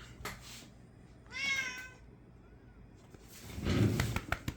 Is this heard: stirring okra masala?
no